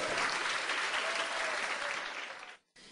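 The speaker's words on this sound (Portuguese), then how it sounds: "Aplauda Jesus, amados." A church congregation claps during a sermon, a dense burst of applause that holds steadily and then fades out over a few seconds.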